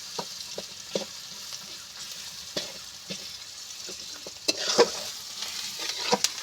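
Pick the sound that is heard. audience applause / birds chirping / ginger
ginger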